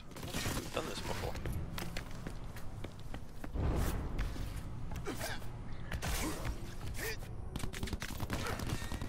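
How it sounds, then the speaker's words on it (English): Enemy gunfire in Crackdown 3 crackles as a steady stream of sharp shots and bursts over dense game noise, with a voice talking throughout. "Watch the enemy fire."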